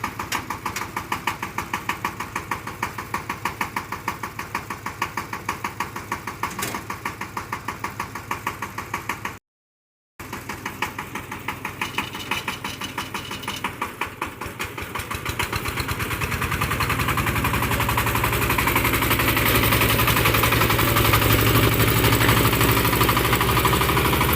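A car engine idling with a steady low rumble and faint rhythmic knocking, heard close for a long stretch with a brief dropout, then growing louder and rougher toward the end.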